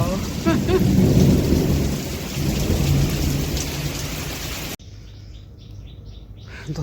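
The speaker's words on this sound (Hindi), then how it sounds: "सच में जोरदार बारिश, पूरी सड़क देखिए एकदम पानी से भर गई" Heavy rain pours down loud and steady with thunder rumbling through, a street flooding with water; the downpour suddenly cuts to a quieter scene with birds chirping.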